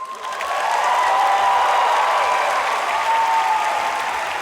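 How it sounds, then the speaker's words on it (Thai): A television singing-contest audience applauds loudly, the clapping swelling quickly and holding as a steady, dense roar of hands. "ขอเสียงดังๆให้กับคุณฝ้ายครับ"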